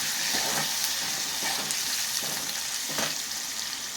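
Green chillies with salt fry steadily in a pan, a dense continuous sizzle with faint stirring scrapes, close and alone with no voices.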